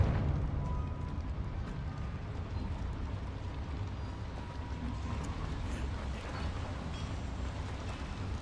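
A fiery Confringo spell blast in Hogwarts Legacy, a loud, continuous rumbling roar of explosions sustained throughout with no clear break.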